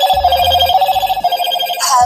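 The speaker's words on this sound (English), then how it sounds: "Ringtones." A Motorola Edge Plus 2023 phone plays a ringtone loudly and close by, a bright electronic melody of sustained tones with short rhythmic low pulses underneath, with no talking.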